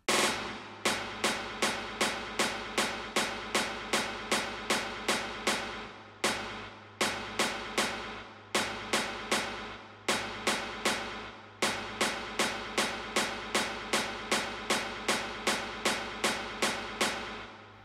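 A layered snare built from two stacked samples, one lifted from a dub-delay source track, repeats in a steady pattern of sharp broadband hits over a sustained low hum, with brief gaps near the 6 and 11.5 second marks.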